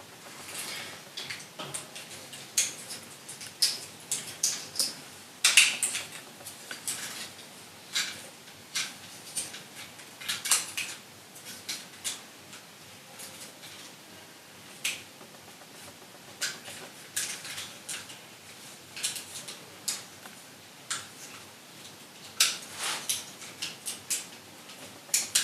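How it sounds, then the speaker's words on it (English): Sharp plastic snaps and clicks from a Transformers Legacy Menasor toy being transformed come in irregular bursts, some loud and close, with quieter handling rustles between them; no one speaks. "There are a lot of loud and uncomfortable sounding snaps going on in this transformation"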